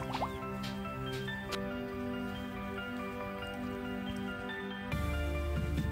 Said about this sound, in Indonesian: Siram media semai hingga benar-benar basah.